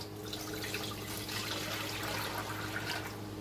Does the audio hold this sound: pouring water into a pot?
yes